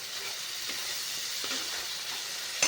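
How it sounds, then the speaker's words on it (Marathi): Coconut masala roasts in a pan as a steady, even hiss of sizzling heard close, with a few faint stirring scrapes and a brief louder knock at the very end, no voices. "आता एक दोन तीन मिनटं मी भाजून घेते मसाला"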